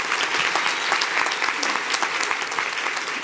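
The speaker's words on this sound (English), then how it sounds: "Give them a big round of applause." An audience claps loudly and continuously throughout, a dense, even wash of many hands with no break.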